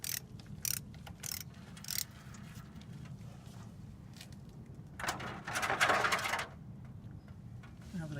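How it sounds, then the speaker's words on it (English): Clicking ratchet-style torque wrench with an 11mm socket working a banjo bolt loose from a front brake caliper on a GM 8-lug K truck, several sharp clicks then a louder burst of turning near the end, no talk. "Use that torque wrench because it was the first thing I could grab."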